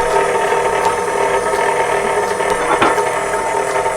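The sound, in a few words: mixer starting on low to mix challah dough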